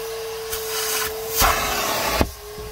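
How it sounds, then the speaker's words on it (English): A George wet vacuum cleaner extracts cleaning solution from car seat upholstery, its motor a loud steady roar with a constant hum, broken by several sharp rubbing pulls of the nozzle across the fabric. "then vacuum it all out."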